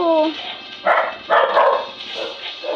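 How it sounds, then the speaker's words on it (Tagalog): Dog barking in a video game, a few short yaps in bursts over continuous game sound while people talk excitedly. "Nakagulat tong aso na to, Grace"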